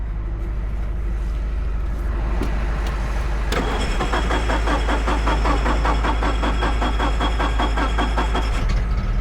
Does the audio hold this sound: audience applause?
no